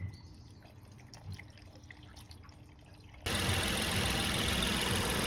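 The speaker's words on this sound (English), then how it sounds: "now the engine runs for about 10 minutes at idle to clean all the carbon buildup" A Suzuki SX4 S-Cross engine idles with engine flush added to the oil. Faint drips and small taps give way to an abrupt, steady idle hum that stays loud and constant.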